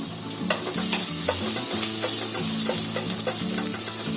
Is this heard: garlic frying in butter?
yes